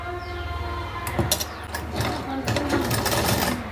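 Sewing machine stitching gold lace folded onto a blouse, a steady mechanical rattle that speeds into bursts of rapid needle clatter, close by with a faint motor hum underneath.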